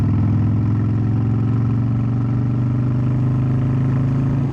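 A motorcycle engine running steadily with a throaty, even drone while the rider upshifts through the gears, loud and close with no pauses.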